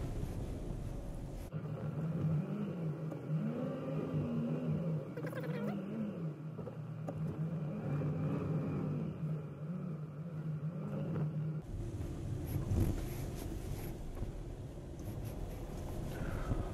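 A Yandex taxi drives along a road, heard from inside as a steady low engine rumble and road hum, with a wavering tonal whine in the middle stretch and a brief bump near the end.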